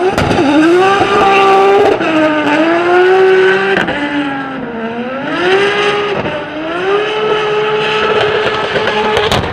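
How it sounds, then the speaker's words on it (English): An Alfa Romeo drift car at a Drift Masters practice session in Italy gives a loud, sustained low-pitched engine rumble whose pitch rises and dips as the revs swing, with no voices over it. "that Alfa Romeo sounds absolutely different. It's really like a low pitch rumble that goes."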